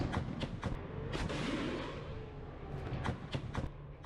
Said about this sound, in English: The Bushmaster guns are firing non-stop.